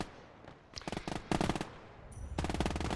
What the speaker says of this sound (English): And Ware's MGs are doing some work in middle too.